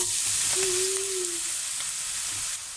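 Steady hiss of an omelette frying in hot oil over low gas, continuous and close, with no talking.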